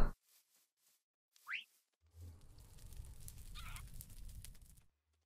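Bird noises in the video game Minecraft: a lone quick rising chirp stands out, followed by a few seconds of noisy game sound before it goes quiet.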